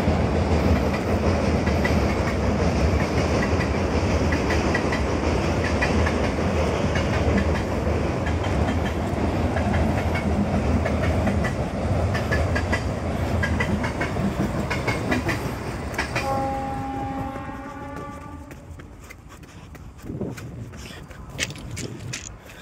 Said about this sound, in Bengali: এক্ষুনি একটা ট্রেন পাস করবে